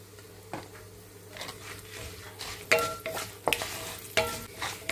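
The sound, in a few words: tempering frying in a pan with asafoetida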